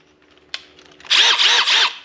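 Milwaukee M12 FUEL impact driver fitted with a 7/32 drill bit, used on a shed door, gives a sharp click and then a loud, close, rapid hammering whir in three quick bursts.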